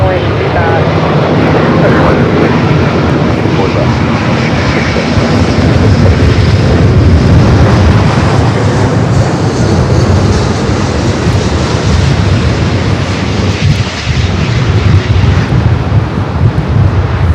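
A Boeing airliner on runway 24 left at Los Angeles airport roars with loud, steady jet engine noise that holds for the whole stretch, broad and unbroken, with radio voices talking over it.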